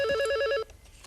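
A telephone rings in a short warbling electronic trill for about half a second, then cuts off abruptly, leaving faint room noise.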